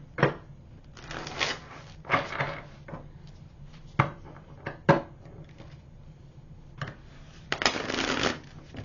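Tarot cards riffled and shuffled in several quick bursts, close up, with soft tapping and handling noises between them and no talking.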